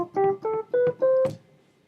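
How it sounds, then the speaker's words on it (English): GarageBand's default classic electric piano plays four short sustained notes in a stepwise line with soft, bell-like tones, then fades into near silence. "And you'll get the default classic electric piano."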